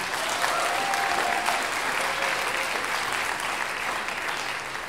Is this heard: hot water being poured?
no